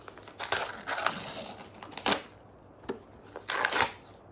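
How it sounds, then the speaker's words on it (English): A twine-tied wrapped book is unwrapped, with crisp paper crinkles and tearing rustles coming in close, uneven bursts separated by brief pauses. "Let's unwrap it."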